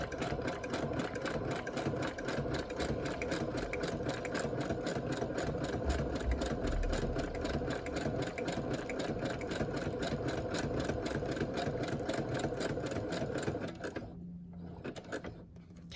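Close up, a sewing machine stitches inside panels in a fast, steady mechanical patter that runs continuously, then stops abruptly near the end, leaving a few quieter clicks.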